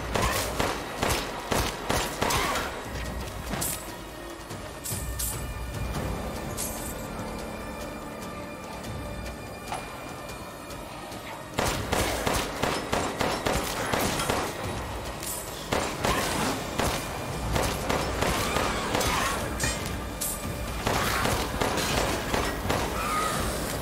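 Rapid gunfire in The Castle 2 comes as bursts of sharp, repeated shots with loud, rhythmic clusters, a quieter stretch in the middle and then the shooting resumes at full strength.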